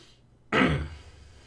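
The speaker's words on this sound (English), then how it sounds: "Trying to fight this cough." A single sharp throat-clearing cough bursts out close up after a moment of near silence, then fades into a low rasp.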